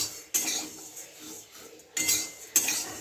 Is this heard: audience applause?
no